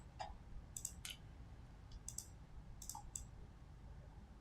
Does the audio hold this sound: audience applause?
no